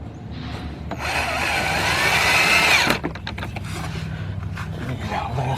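A power tool drives screws into plastic on a BMW 745i during starter replacement, a loud whirring burst rising for about two seconds then stopping, followed by short ratcheting clicks and handling noises.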